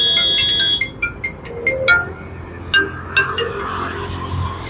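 A bright electronic phone ringtone plays a repeating melodic pattern of short tones, clear and close, with faint background noise underneath.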